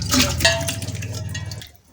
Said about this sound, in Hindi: स्ट्रेनर से चावलों को छान लेंगे।